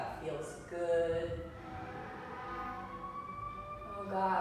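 Emergency vehicle sirens wail outside, rising and falling at a distance beneath someone speaking during an indoor chair yoga session.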